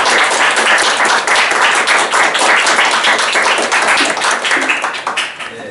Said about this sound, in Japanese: もう一度拍手の方をお願いします